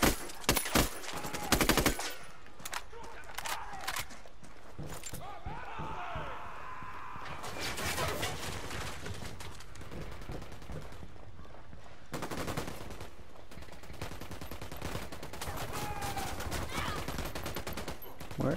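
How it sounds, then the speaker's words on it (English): Gunfire in the Ghost Recon Wildlands video game, with repeated bursts and sharp shots coming from several directions under ongoing game sound and a voice speaking at times. "I'm getting shot from so many different directions"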